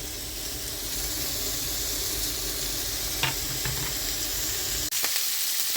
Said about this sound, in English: you can see that the fat from this bacon is starting to leach out now